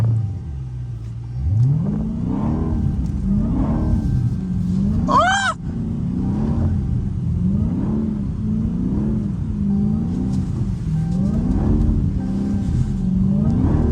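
A Dodge Hellcat sliding in snow, its engine rumbling loudly and steadily throughout with repeated rising and falling revs, plus a brief high squeal partway through.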